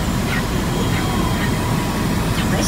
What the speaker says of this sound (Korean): 이 헬기는 세계에서 가장 조용한 벨 407 헬리콥터입니다.